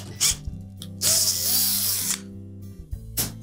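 A tool turns into an unthreaded hole on a Whirlpool oven hinge to cut a thread, a close harsh whirring burst lasting about a second, with short sharp clicks before and after.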